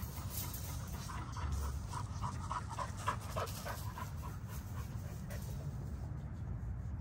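XL American Bully dogs pant steadily nearby, a continuous quick rhythm of breathy huffs, with a few faint whimpers and no talking.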